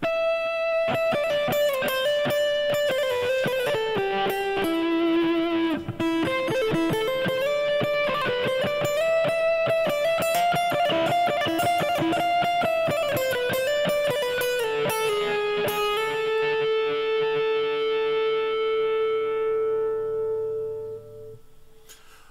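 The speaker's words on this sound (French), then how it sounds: "ce qui permet d'avoir le célèbre son de distorsion" An electric guitar played through distortion and effects sustains loud, saturated notes and a bending melodic line, dense and continuous, before ringing out and fading at the end.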